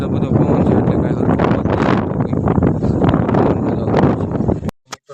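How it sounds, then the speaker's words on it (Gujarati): Strong wind sweeps across open farm fields and roars loud and steady against the microphone for several seconds before stopping abruptly, followed by a couple of brief knocks. "તમે જોવો છો કેટલો બધો પવન છે"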